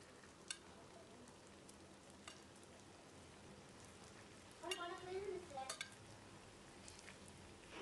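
Köfte meatballs fry in hot oil with a steady, close crackling sizzle throughout, and a brief clatter of a utensil stirring or turning them partway through.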